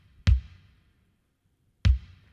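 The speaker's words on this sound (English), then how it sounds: "I've layered it with one of Logic's own kicks, which is kind of a sort of almost an 808-ish kick" Layered kick drum, an eFunk sample stacked with an 808-style Logic kick for body: two solid, well-spaced thumps with short decays, heard alone.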